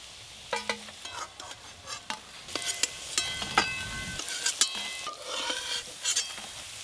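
Green pea koftas fry in a pan of oil, a soft steady sizzle broken by repeated sharp clacks and scrapes of a utensil against the pan, near and fairly loud.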